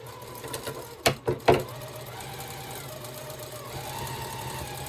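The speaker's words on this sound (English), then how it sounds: "I'm going to put a seam right up here with my machine" A sewing machine stitches a seam along printed fabric for a bike basket bag, with a few sharp mechanical bursts near the start and then a steady low running hum.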